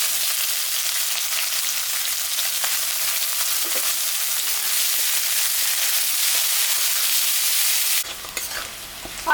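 Potato and onion pieces sizzle in hot oil with mustard seeds, cumin and dried chilli while being stirred, a continuous close frying hiss with scraping that breaks off near the end.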